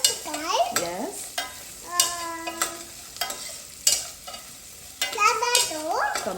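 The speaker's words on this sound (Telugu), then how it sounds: "అమ్మ ఫ్రై చేస్తుంది ఇప్పుడు" Vegetables frying in a pan for cucumber sambar, a soft sizzle with repeated stirring scrapes of a spoon against the pan, while children and adults chatter over the cooking.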